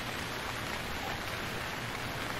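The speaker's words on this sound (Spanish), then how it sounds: "pero de llover parece que no quiere parar" Steady rain pours down in the survival video game Stranded Deep, a constant even hiss of drops on surfaces with no breaks and no voices.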